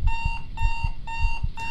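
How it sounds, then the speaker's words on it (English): A video game alarm clock rings in repeated electronic beeping bursts, about four evenly spaced pulses, loud and clear with low thuds underneath. "Not the alarms."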